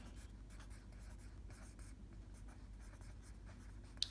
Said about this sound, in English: I'm going to go back to my paper, and I'm going to write quadratic for term.